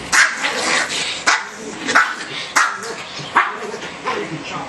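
A dog barks in about five sharp, evenly spaced barks close by, with a person talking softly in between.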